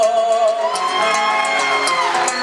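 Crowd cheering and applauding for a gaucho payador during an Argentine payada duel, loud whoops and shouts over sustained clapping, with a voice singing along.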